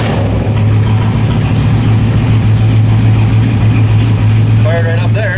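A BMW E30 fitted with an LS1 V8 engine runs after being started, a loud, steady idle with a deep low hum throughout and a few higher whines near the end.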